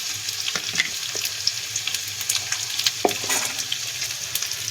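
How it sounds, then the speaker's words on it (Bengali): Onions frying in hot oil in a large kadai, a close, steady crackling sizzle with occasional sharper pops and light scraping knocks. "এবারে বড় কড়াইতে পেঁয়াজ ভাজিয়ে দিয়ে দেবো।"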